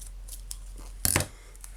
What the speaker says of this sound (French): Couper un petit peu.